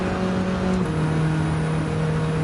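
A race car in Gran Turismo 7 drones with a steady engine hum at near-constant revs, a smooth and moderately loud tone that carries on without a break or any voices.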